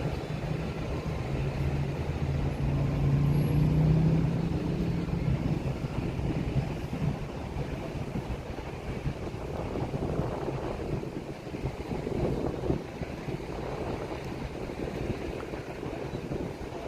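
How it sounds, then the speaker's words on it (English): Wind buffets a microphone on a freeway overpass at Edinger in Huntington Beach, a steady broadband roar with gusty fluctuations, mixed with a low hum of traffic below. "It's a little bit windy up here."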